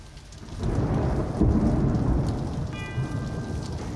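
A thunderstorm at sea: steady rain hisses as a deep roll of thunder swells in and rumbles on, loud and enveloping, with a brief tonal chime late on.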